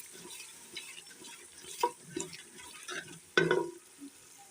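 Spices with two spoons of crushed coriander and salt frying in a pan for beef nihari, a soft low sizzle broken by occasional spoon stirs and scrapes, one louder clatter near the end.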